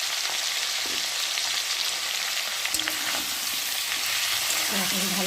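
Spice paste of ginger, cumin and onion with turmeric, chili and salt fries in a pan for a soybean dish, giving a steady close sizzle with occasional scraping stirs.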